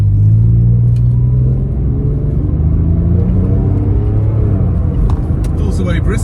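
A 2004 Porsche 911 Carrera with Tiptronic transmission and a rebuilt engine idles with a deep, close rumble that rises and settles as it pulls away, with someone talking over it.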